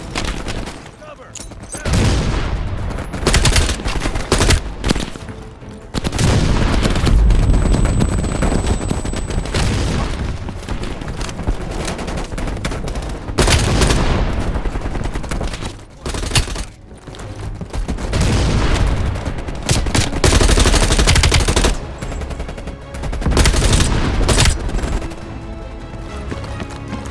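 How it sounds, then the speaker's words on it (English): Heavy machine gun fire in a Call of Duty Black Ops Cold War battle cutscene, with loud bursts, booms and distant gunfire, and shouted soldier voices mixed in. "Heavy MG on the ridge."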